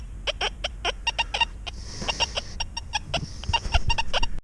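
XP Deus 2 metal detector with a nine-inch coil sounding over a small piece of foil, a run of sharp, rhythmic beeping tones that repeat rapidly and grow stronger toward the end, no talking.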